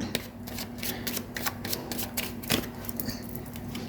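A tarot deck is shuffled by hand and cards are drawn, giving close, crisp riffling and repeated sharp flicks and taps in an uneven rhythm with no talk over them.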